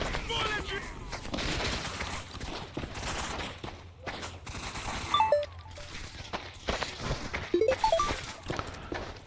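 Gunfire in STALKER Anomaly with the Old World addon, sharp shots cracking through a noisy game soundscape in the stadium area, several reports clustered mid-clip and again near the end, with a voice talking over it.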